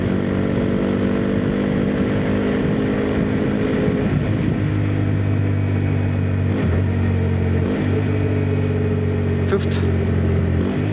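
A 2026 Hero Xpulse 210 motorcycle engine drones steadily while riding, its pitch dropping and recovering in a few distinct steps as gears are shifted, heard close with wind noise.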